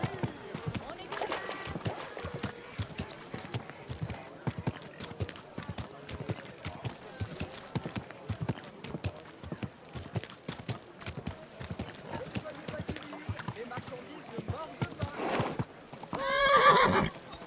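Rhythmic hoofbeats of a video game horse at a steady gallop throughout, ending with a loud whinnying neigh near the close.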